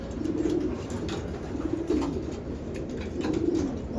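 A prize-winning racing pigeon cooing in a home loft, soft low rhythmic coos repeating about three times, fairly quiet and close, with no talk.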